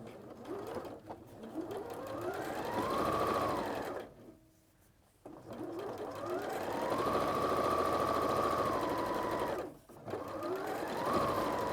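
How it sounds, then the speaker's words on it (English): Sewing machine stitching fabric in long rising and steady whirring runs, loud and close, broken by two short pauses between bursts, with no talking. "So we'll just sew that very nice and quick."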